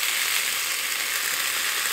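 Bacon sizzles in a pan over low heat with a loud, steady, crackling hiss that fills the whole moment, with no talking.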